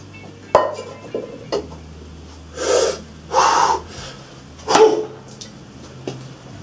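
A Zombie Tools blade chops into a thin, cheap old frying pan, giving several sharp metallic strikes and scraping bursts spaced a second or so apart against a quiet background.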